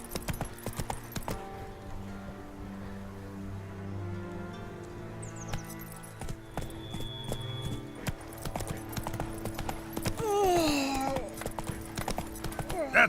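Roach, the horse in the game The Witcher 3, trots with rhythmic hoof clip-clops, a short whinny partway through, game music and effects underneath, and a voice speaking at times.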